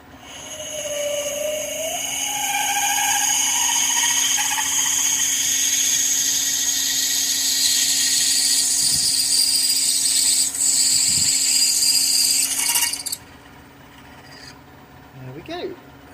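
A lathe drills a tapping-size hole using an oversized drill chuck, giving a loud, steady high-pitched whine and hiss with a tone that climbs early on, then cuts off abruptly near the end.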